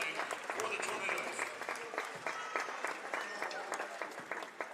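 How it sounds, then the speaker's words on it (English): A college basketball crowd applauds a departing senior player near the end of a home game, dense steady clapping from a large audience in a gym, heard at moderate distance and sustained throughout. "Listen to this crowd for KK Horton"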